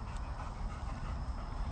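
A finished hunting dog pants rapidly and steadily at close range after a retrieve run of about 150 to 200 yards, the quick breathy rhythm continuing alone without talk.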